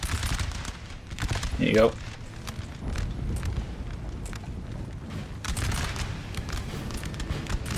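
Musket volleys firing in the Napoleon: Total War video game, heard as bursts of crackling gunfire under a steady battlefield rumble, with a brief spoken remark early on.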